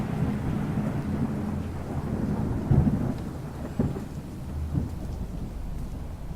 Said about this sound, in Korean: 천둥번개